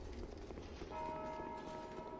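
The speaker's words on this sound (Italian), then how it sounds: "adesso suonano le campane" Church bells toll in the Dark Souls 2 game, a faint ringing tone that enters partway through and rings on steadily, sitting low behind ambient game noise.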